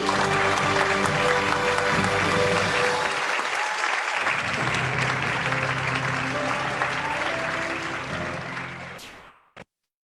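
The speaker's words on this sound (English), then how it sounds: "A warm round of applause, please, for our outgoing and incoming MAP President or Presidents." Sustained applause from a large audience, steady and dense for several seconds before fading out abruptly at the end.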